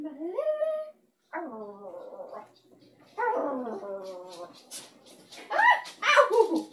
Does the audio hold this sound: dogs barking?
yes